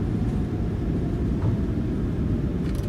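Steady, loud broadband roar of jet thrust reversers on a PMDG 737 landing in Microsoft Flight Simulator 2020, a continuous rumble sustained from start to finish with no breaks.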